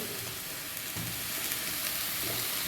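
Cumin and turmeric powder sizzling and frying in a hot pan with oil, a dense continuous hiss with faint stirring scrapes, close and loud, no talking.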